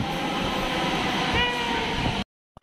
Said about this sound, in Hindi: चलो हमारी मेट्रो तो आ गई।